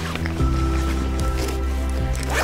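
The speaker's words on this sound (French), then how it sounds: "Deux poissons même pas 24 heures déjà, c'est plus que bien, c'est plus que bien, on va la remettre à l'eau" A carp being released back into the water while winter fishing: wet splashing and squishing up close over a steady low engine-like drone, with a few brief rustles and no clear speech.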